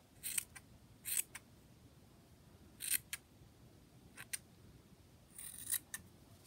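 Scissors snip around the bottom of a crochet yarn pom-pom for a baby beanie, a series of crisp close snips in small clusters, spaced irregularly over a soft background hiss.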